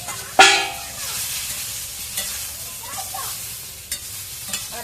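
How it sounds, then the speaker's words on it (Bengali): Eggplant slices fry in a pan with a soft, steady sizzle, broken by a sharp utensil clink at the start and a few fainter knocks later. "আজকে এই যে বেগুন ভাজা করছি আর বড়ি ভাজা"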